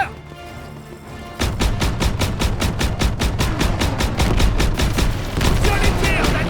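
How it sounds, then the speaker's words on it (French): Gunfire in the World War II shooter Call of Duty WWII, a rapid, loud burst of repeated automatic shots starting after a short quieter lead-in and continuing steadily to the end. "Je les tire, Daniel!"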